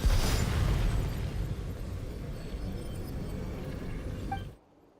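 In Genshin Impact, the Spirit Speaker stone is destroyed in a loud explosion, a heavy roaring blast that decays over several seconds before cutting to near silence.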